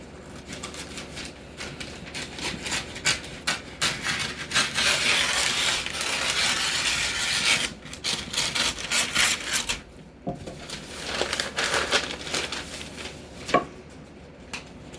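A sheet of Tyvek being used as gutter flashing is folded in half and then into thirds, making loud, close, continuous crinkling and rustling with a few short pauses and sharper crackles, and no one speaks.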